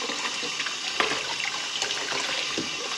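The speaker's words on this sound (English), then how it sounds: "I'm just going to get the water nice and hot, and all I'm doing is agitating the button in the middle" Hot water runs steadily from a tap while a caravan water pump's pressure relief valve is rinsed, a constant close splashing flow with no voices.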